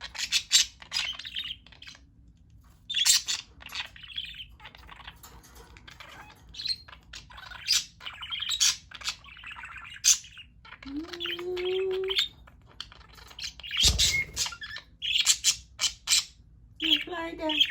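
A pet budgie chirps and squawks indoors in frequent sharp bursts at close range, while a person speaks softly now and then and a faint steady hum runs underneath.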